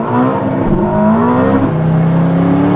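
A Ferrari SF90 XX and a Koenigsegg Regera launch side by side in a drag race. Their engines roar loudly and continuously, and the pitch climbs through the gears as both cars accelerate hard. No voices are heard.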